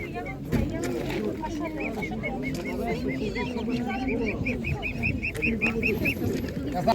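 Several large purebred ducks quack in repeated bursts amid a busy poultry yard at an animal market, with a person talking nearby over the calls.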